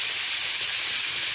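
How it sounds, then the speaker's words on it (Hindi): A kitchen pressure cooker whistles while carrot halwa is being made, letting out a loud, continuous steam hiss that fills the whole short stretch without pause. "और इधर दे रहा है कुकर सीटी"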